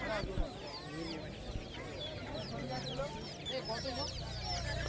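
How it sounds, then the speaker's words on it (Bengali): Busy chorus of chirping and soft clucking from many chicks and ducklings at a bird market in Kolkata, continuous and close, with some background voices. "এখানে দেখতে পাচ্ছ হ্যাঁ, মুরগির বাচ্চা আছে হাঁসের বাচ্চা আছে"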